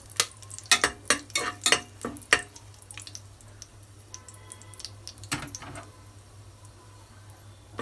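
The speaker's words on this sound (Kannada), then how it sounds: "ಲವಂಗ, ಸ್ವಲ್ಪ ಮೆಣಸು, ಪಲಾವ್ ಎಲೆ ಹಾಕಿ ಸ್ವಲ್ಪ ಫ್ರೈ ಮಾಡ್ಕೋಬೇಕು" Cloves, pepper and a bay leaf fry in a pan for egg biryani: a rapid burst of loud spatula clatters against the metal, then softer scattered scrapes over a faint sizzle, with no talking.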